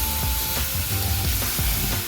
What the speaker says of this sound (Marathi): हलवून घेतल्यानंतर बघू शकतो मी आता डाळ टाकली